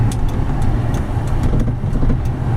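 A 2007 Ford F150 Harley Davidson Edition pickup's V8 engine rumbles in a loud, steady, low drone throughout, with a rhythmic pulsing under the running vehicle.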